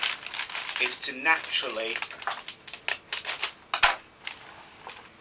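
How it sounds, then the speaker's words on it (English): Cellophane wrapped around a red rose arrangement is gently handled and trimmed, giving close, crisp crinkling and crackling in irregular bursts, with a person briefly speaking partway through. "now I can just gently tease the actual cellophane and just do a little bit of trimming"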